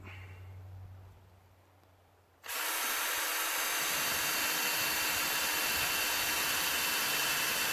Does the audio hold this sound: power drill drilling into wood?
yes